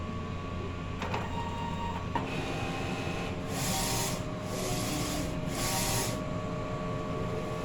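An inkjet printer runs a nozzle test after a head clean: carriage passes sweep back and forth in three rhythmic bursts over a steady mechanical hum, close by, with no talking.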